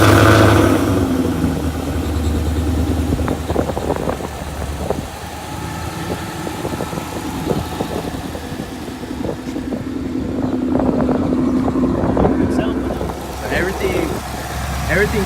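A 2015-2017 Ford Mustang GT V8, fitted with a 2018 intake manifold, starts and settles into a steady, rumbling idle nearby, while voices talk over the engine.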